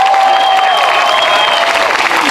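An audience bursts into applause for a magician's stage show, a loud, dense wash of clapping, with a few whistle-like tones over it, that lasts about two seconds.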